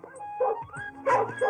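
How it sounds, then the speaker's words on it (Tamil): A newly acquired dog barks and whimpers while pulling on its leash, giving several short, close yips and barks in quick succession. "புது நாய் இழுக்குது, யாருக்கு கட்டுப்பட மாட்டேங்குது"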